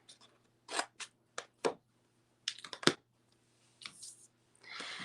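Scissors make several short, crisp snips through scored paper while angle-cutting a tab for Halloween treat packaging, coming in separate bursts with pauses, close and clear, then a longer rustling cut at the end.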